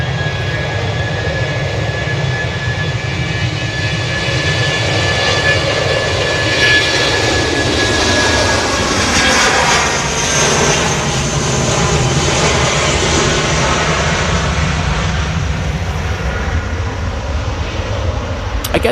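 An EasyJet airliner's jet engines roar at Manchester Airport in the early morning, a loud, broad sustained rumble with a rising and falling whine as the aircraft moves past, steady for the whole stretch without talk.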